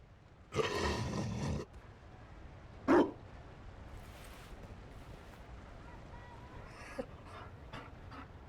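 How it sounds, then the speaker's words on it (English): A Mabari dog in the video game Dragon Age Inquisition lets out a long, breathy huffing pant, then a short whining cry, followed by faint scattered snuffles against quiet ambience. "You found a dog?"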